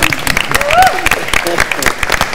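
Applause from a studio audience on a comedy TV show, quick clapping bursts mixed in with someone speaking loudly over it.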